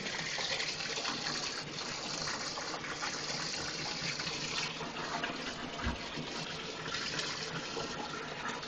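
Water gushes from a tap into a bathtub in a home bathroom, a close, loud and continuous rushing and splashing that stays steady throughout.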